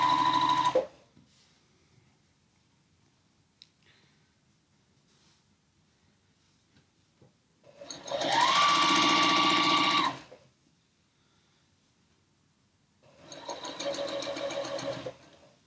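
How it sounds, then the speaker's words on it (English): Three bursts from a sewing machine as quilt block rows are joined: a short run, a longer steady whirring stretch of about two seconds, then a third run after quiet pauses. "our final step is to sew all 3 rows together"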